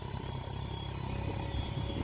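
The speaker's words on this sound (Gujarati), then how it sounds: "અમારા ઘનશ્યામભાઈ આવી ગયા ટ્રેક્ટર લઈને" A farm tractor pulls into a field ready for ploughing, its engine a steady, close mid-pitched rumble with a clattering idle that holds an even level throughout.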